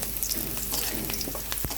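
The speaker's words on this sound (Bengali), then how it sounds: "কিছুক্ষণ পেঁয়াজটা ভেজে নেব।" Sliced onions and whole dried red chilies fry in oil in a home kitchen, a steady close sizzle crackling throughout with a few sharper pops and spatters, no talking.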